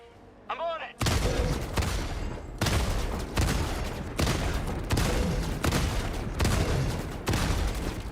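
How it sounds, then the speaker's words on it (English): Rapid heavy gunfire in Helldivers 2 pounds away at a connector, seven or eight dense booming bursts in quick succession after a brief quiet, loud and close. "Shooting the connector."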